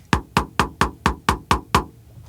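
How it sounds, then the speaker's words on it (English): A pickleball strikes an ALWC paddle eight times in a steady rhythm. Each hit is a sharp, hollow pop heard up close, with no talking. "here's the sound of the ball hitting the ALWC."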